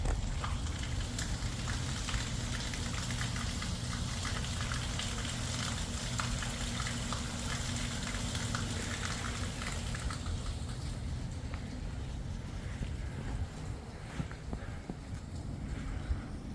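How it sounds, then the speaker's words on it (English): A steady broadband wash of running water fills the whole stretch, constant and fairly even, with faint scattered ticks and drips on top. "You can hear the water running."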